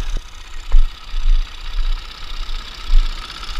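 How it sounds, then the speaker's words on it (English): A Ford 6610 tractor engine idles low and steady with a rough, knocking rumble, broken by a few slightly louder surges; no voices. "So, yeah, we'll hop on the tractor."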